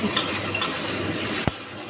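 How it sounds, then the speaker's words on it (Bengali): Bitter gourd frying in a wok, a brief steady sizzle close by with a couple of light scraping strokes and one sharp tap of a spatula near the end. "করলাটা ভাজছি"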